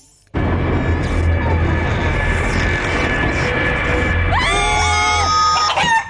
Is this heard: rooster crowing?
yes